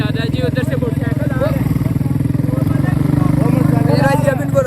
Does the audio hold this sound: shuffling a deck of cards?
no